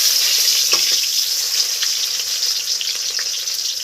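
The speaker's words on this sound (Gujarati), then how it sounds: "ડુંગળી નાખી છે ને કકડવા દઈ" Onions fry in hot oil for pav bhaji with a bright, close, constant sizzle and crackle, dotted with small pops.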